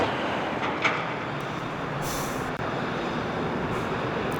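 A Norfolk Southern intermodal freight train rolling past close by in January, with a dense, steady roar of wheels and cars and a brief thump partway through.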